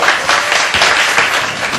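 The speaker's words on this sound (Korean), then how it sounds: "여러분 따뜻한 박수로 맞아주시죠." An audience claps warmly to welcome a game designer on stage at a Lineage 2 preview event, a dense, steady burst of applause filling the room without speech.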